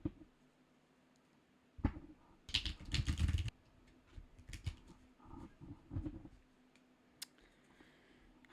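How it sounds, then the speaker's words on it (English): Tarot cards are shuffled by hand in short bursts of crisp riffling and tapping, separated by quiet gaps, close and fairly soft. "Just gotta shuffle them good."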